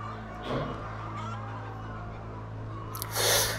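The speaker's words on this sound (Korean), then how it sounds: "50주령쯤 되는 닭들이에요" Fifty-week-old chickens on a mountain pasture farm, a few faint clucks over a steady low mechanical hum, with a louder burst of bird calls near the end.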